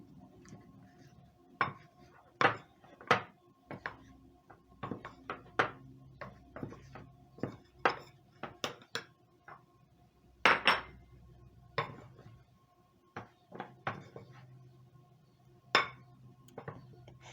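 A utensil clinks and taps irregularly against a bowl while a cornstarch coating for fish is mixed, with sharp close knocks spread over a quiet background.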